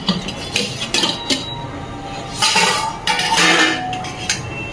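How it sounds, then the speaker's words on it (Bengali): A lid goes onto a steaming pot of modak made from semolina and rice flour, with a cluster of metallic clinks and clattering of pot and lid knocking together at close range, no voices. "এখন ঢাকা দিয়ে দেবো।"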